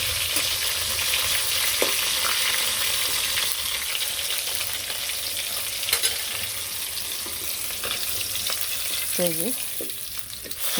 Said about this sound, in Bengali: এই কটা ভাজা হলেই হয়ে যায় তো এগুলো একটু কড়া করে ভাজব নাকি